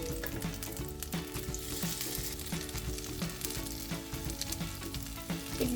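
Filled tomatoes frying in a pan after being flipped, a steady close crackle of hot oil with small irregular pops running throughout, nobody speaking.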